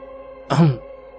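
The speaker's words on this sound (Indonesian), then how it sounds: "Aku pura-pura berdehem untuk menjeda obrolan mereka." A single throat clearing, one short gruff burst about half a second long, close and fairly loud against a quiet, humming background.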